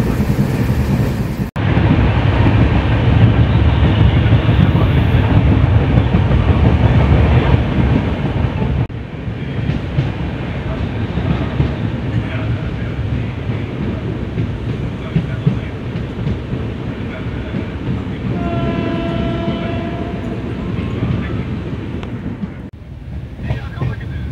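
A passenger train arriving at Rajapalayam on the Tirunelveli to Mettupalayam line rumbles steadily along the rails with a broad, loud roar and wind buffeting, easing slightly partway through before continuing.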